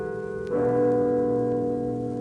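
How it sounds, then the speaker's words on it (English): One bell of Ottawa's Peace Tower, the city's bell and clock tower, strikes once in a 1959 radio recording, its rich ringing tone sustaining and slowly fading. "The Peace Tower is a bell tower and a clock tower, and its bells echo in the heart of Ottawa"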